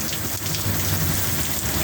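Heavy rain pours steadily during a severe, unexpected storm with gusting wind, a dense close hiss of drops hitting surfaces and a low rumble underneath, with no voices.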